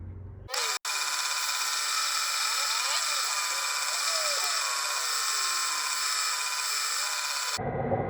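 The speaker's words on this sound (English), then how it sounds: "we're on the 150, and we're not going to grind too far" Andamooka opal matrix ground on a 150-grit lapidary wheel, a loud, steady high-pitched grinding whine that starts abruptly, holds continuously with shifting scraping tones, then cuts off near the end.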